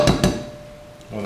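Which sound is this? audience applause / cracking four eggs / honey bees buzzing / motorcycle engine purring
cracking four eggs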